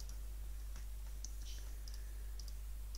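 Mouse clicks while selecting speakers in Windows sound settings: several faint, sharp clicks scattered across a few seconds over a steady low electrical hum, with no talking.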